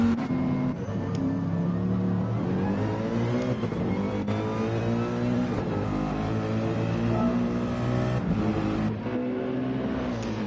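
Onboard a Mercedes AMG GT race car qualifying at Spa in a racing sim: a steady, loud engine drone that rises and falls as it revs through gears, with no talk over it.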